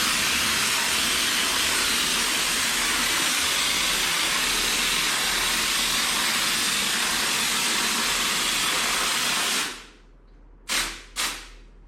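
Kraken spray foam insulation sprayed into a 2x4 wall cavity, a loud continuous high hiss that runs for about ten seconds, then stops, followed by two short sharp spurts.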